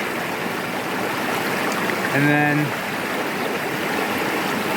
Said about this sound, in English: have the creek running in the background there